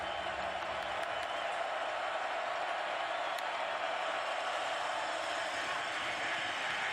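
Stadium crowd at a Baylor at Texas college football game produces a steady, distant roar of cheering and noise that holds evenly throughout without any clear voice on top.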